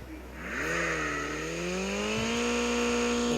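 A car engine revs up and holds a steady whining drone while driving in the mobile shooter game Call of Duty Mobile, the pitch rising then leveling off, loud and close.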